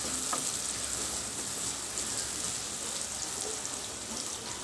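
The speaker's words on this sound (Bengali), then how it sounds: "এখন সবগুলো উপকরণ খুব ভালোভাবে একটু তেলের ভেতরে আমি ভেজে নিব।" Cardamom and cinnamon frying in oil for a Bengali chicken roast, giving a steady, moderately quiet hiss of sizzling that runs evenly throughout with no talk.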